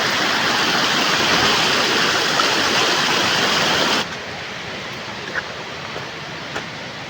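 Khuntapashi Ghagi waterfall in a Keonjhar forest roars as a loud, dense rush of falling water, then drops abruptly to a quieter, more distant wash with a few faint knocks near the end.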